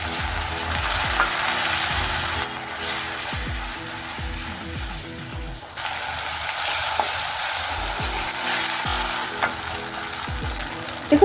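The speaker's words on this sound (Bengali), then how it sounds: "এবার এর মধ্যে অল্প পরিমাণে জল দিয়ে মশলাটা খুব ভালোভাবে কষিয়ে নেব।" Spice masala with a splash of water frying in a pan while being stirred, a steady loud sizzle with repeated spatula scrapes and taps throughout, briefly dipping before resuming.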